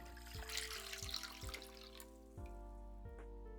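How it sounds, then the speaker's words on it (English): Kombu and bonito dashi is poured into a cooking pot, a brief, quiet splashing stream of liquid that settles into a softer trickle, heard alone in a kitchen. "This is 700 grams of dashi, which is made from kombu and bonito flakes. I add dashi to the pot."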